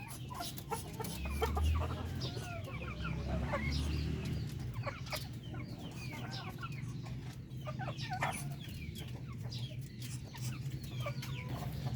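Darag native chickens cluck in their cages on a farm in Zaragoza, Nueva Ecija, with overlapping calls from several birds and a steady low background hum throughout.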